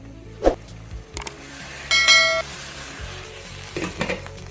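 Raw mango pickle cooking in a pan over a medium flame, with quiet sizzling, scattered stirring scrapes and a few metallic clinks of a utensil against the pan.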